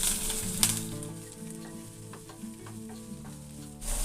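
Cabbage stir-fried with green chillies and capsicum in a pan for momo filling, a steady close sizzle with scattered scrapes and taps of the spatula, no voices.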